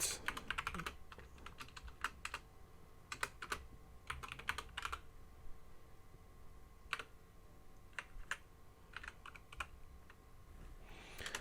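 Computer keyboard keys clicking in short bursts of typing while Java code is entered, with pauses between clusters of keystrokes; quiet and close, no talking.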